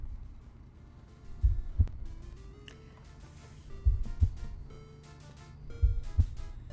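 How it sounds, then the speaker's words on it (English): Slow, muffled heartbeat pulses in Homestuck, arriving in double thumps about every two seconds, low and booming under a faint humming musical tone. "That heartbeat is so reverberating through my skull."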